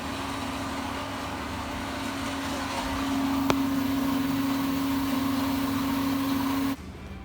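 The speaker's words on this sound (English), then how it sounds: "That's the main engine, by the way." A steady Cummins 8.3L diesel truck engine drone with a constant low hum, running evenly for several seconds and getting a bit louder partway through before cutting off at the end.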